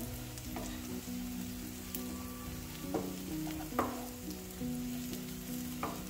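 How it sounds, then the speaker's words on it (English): Onions caramelize in a pan for homemade hotdogs, giving a soft, steady sizzle. Occasional stirring scrapes and light utensil taps sound up close at a quiet level. "we'll wait for onions to finish caramelizing"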